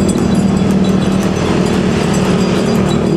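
A Budiman bus coming from the west passes along the road at Limbangan, Garut. A loud, steady engine rumble with road noise holds throughout, close by and with no voices.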